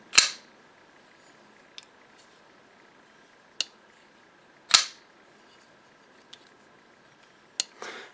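A folding knife opened and locked several times, sharp metallic clicks and snaps spaced a second or two apart, close and crisp against near silence.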